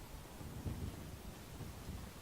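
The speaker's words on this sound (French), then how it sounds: "Ça y est, il pleut." Rain and low rumbling thunder in the video game GTA V Online, a soft continuous hiss of rainfall over deep rolling rumble, fairly quiet with no talk.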